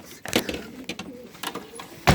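Racing pigeons coo and shuffle nearby in an enclosed loft, with soft flutters and wooden knocks scattered through.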